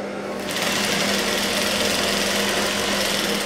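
A sewing machine stitching a blouse being remade from an old one runs loud and close in a steady, continuous whir after a brief start, with no talking.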